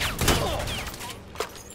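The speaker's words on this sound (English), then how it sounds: "Covering fire." Gunfire in the video game Predator: Hunting Grounds, a loud burst of shots at the start followed by quieter scattered reports and one sharp crack near the end.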